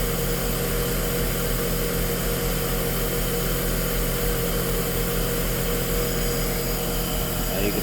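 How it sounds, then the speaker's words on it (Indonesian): A Mercedes-Benz S-Class Airmatic air suspension compressor runs with a steady, loud mechanical drone that holds level throughout, although the suspension fails to build air pressure. No voices are heard. "Di sini kita dengar ada suara kompresor yang nyala."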